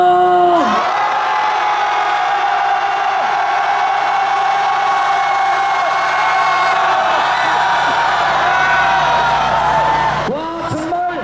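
A huge crowd at a candlelit street rally in Gwanghwamun, Seoul roars and cheers in one sustained, loud wall of voices for about ten seconds, whoops and shouts blending together before it drops off.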